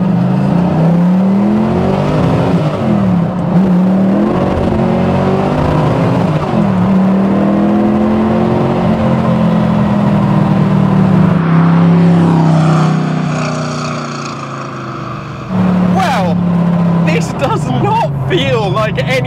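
A 1970s DeTomaso Pantera with a Windsor V8, forged internals and a big Holley carb pulls hard, the engine note climbing steadily through the gears with a brief lift mid-run, heard from inside under occasional talk.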